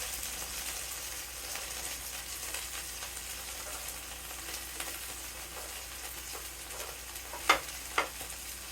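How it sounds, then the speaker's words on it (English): Pork sizzles quietly in a skillet as a steady, soft frying hiss, with a couple of sharp clicks near the end. "we're going to continue cooking this pork"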